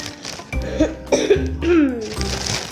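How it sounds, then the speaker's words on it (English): A woman who is a little sick coughs several times in short, close bursts, each with a rough throaty rasp, while unboxing a slime package indoors. "Sorry that I'm coughing, I'm a little sick"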